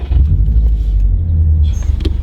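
A Subaru WRX set up for launch control and antilag cranks and fires, its engine rumbling loud and close with a deep steady low drone that runs throughout, a brief whine near the end.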